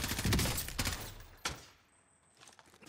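Sniper gunfire in a video game, a few sharp shots and a short rattling burst up close, then the sound drops away into near quiet.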